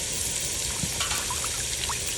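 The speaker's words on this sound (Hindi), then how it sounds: "तो अभी जो है मैं गोभी धोने लग गई हूँ।" Cauliflower is washed under a running kitchen tap, making a steady, close rush and splash of water with faint trickling. The sound is continuous throughout, with no talk.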